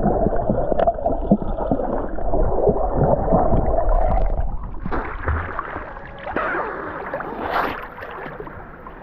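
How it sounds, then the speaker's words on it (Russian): Muffled underwater sounds while diving into clear warm sea off a Turkish beach: low rumbling gurgles, bubbles and sloshing water, close and fairly loud with no talking. "Давайте я с вами ныряю и сами смотрите."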